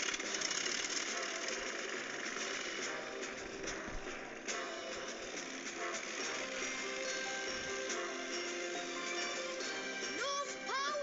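A steady mechanical engine hum runs throughout with faint ticking and knocking, a continuous drone that holds level without pauses.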